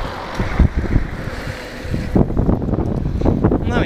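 Strong, gusty wind blows near the sea, buffeting the microphone with loud rumbling bursts that rise and fall unevenly.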